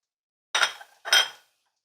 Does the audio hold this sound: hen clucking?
no